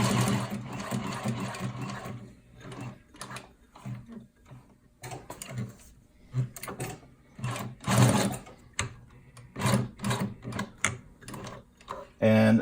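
Sewing machine stitching adjustable material in short bursts of rapid mechanical whirring and ratcheting, stopping and restarting, with a person talking in the pauses between runs.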